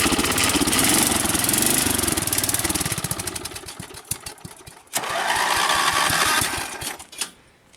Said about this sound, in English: this motor hasn't run in a very, very long time